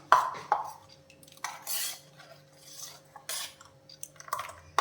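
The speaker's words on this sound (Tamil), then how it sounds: "ஸ்பூன் வச்சு எடுத்து பார்க்கலாம்" A spoon clinks and scrapes against a mixer jar a few times, with soft wet scooping of watery chutney in between, close and moderately quiet.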